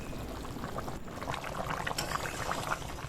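Mutton curry gravy boiling in a pot, a soft continuous bubbling with small pops and splutters, faint and close.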